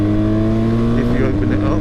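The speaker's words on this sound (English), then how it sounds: "The GS certainly can accelerate well" BMW R1200GS motorcycle accelerating, a close steady engine drone with strong low harmonics rising slightly in pitch over a couple of seconds, heard from the rider's position.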